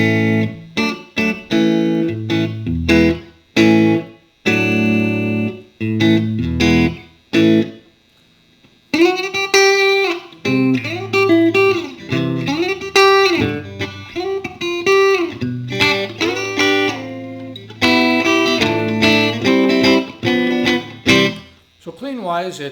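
A Stratocaster on its middle pickup position plays through a Fender Frontman amplifier set clean with light reverb: picked chords and single notes in loose phrases, close and fairly loud, with a short pause partway through.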